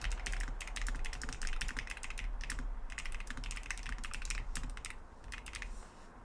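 Quick, uneven clickety-clack keystrokes on a computer keyboard run almost continuously, fairly close, with brief pauses and no talking.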